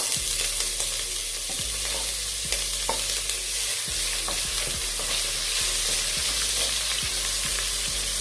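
Onions are stir-fried in a pan, a loud continuous sizzle with a steady rhythm of spatula scrapes and knocks against the metal, close and alone without speech.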